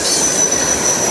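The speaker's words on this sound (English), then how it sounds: "M647 is typically a pretty long train" Freight train M647 rolling past close by with a loud, sustained high-pitched wheel squeal riding over a dense rumble of rail cars.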